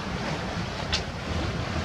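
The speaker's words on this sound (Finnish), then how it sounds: "Löytyihän niitä tuulia." Wind rushes and waves wash at sea around a sailboat, making a soft, steady broadband roar with a faint splash near the middle. The moment is brief, with no voices.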